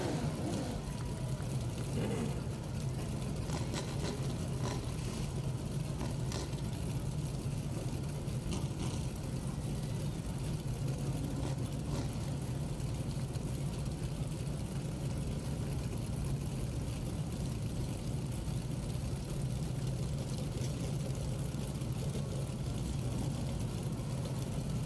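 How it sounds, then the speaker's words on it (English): NASCAR Whelen Modified Tour race cars idle together at Riverhead Raceway before the 2023 Miller Lite 200, a steady, continuous low engine rumble that holds unchanged throughout. "Drivers, start your engine!"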